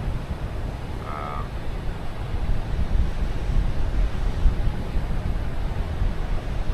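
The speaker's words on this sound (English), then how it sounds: "that's actually the crashing waves more than it is anything" Ocean waves wash onto a beach in the Philippines as a constant broadband roar mixed with wind buffeting the microphone. The surf swells slightly louder midway through, and a single brief bird call sounds early on.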